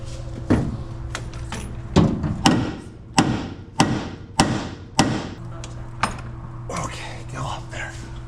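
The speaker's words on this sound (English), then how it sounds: "Gotta tap that with the hammer here." Sharp metallic hammer taps ring out in an irregular series of about eight strikes, close by, with soft whispering in the background.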